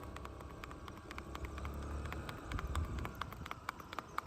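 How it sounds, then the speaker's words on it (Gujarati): A mare's hooves clip-clop steadily along a road as she pulls a cart on a cold morning, a regular rhythm of quiet, fairly close hoof beats with some traffic rumble behind. "ખાલી ઘોડીના ડાબલાના અવાજ સાંભળો ખાલી"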